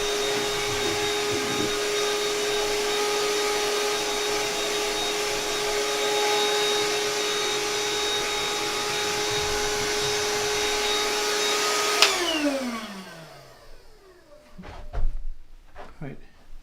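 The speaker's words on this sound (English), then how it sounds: "I have to put so much force into the grinder" A hand-cranked manual grinder works through dark-roast Colombian coffee beans with a steady, loud whirring grind for about twelve seconds, then stops abruptly, followed by a few faint clicks and handling knocks.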